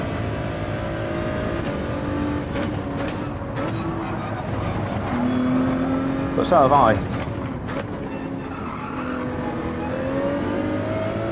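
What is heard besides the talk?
race cars driving at Road Atlanta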